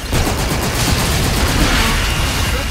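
Dense, continuous gunfire in the video game Call of Duty: Infinite Warfare, loud and sustained with rapid overlapping bursts and booming impacts throughout.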